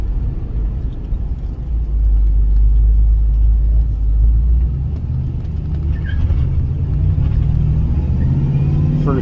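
A 1978 Pontiac Trans Am with a 400 V8 and four-speed manual pulls hard in first gear, its deep engine rumble building steadily from inside the cabin with no talk.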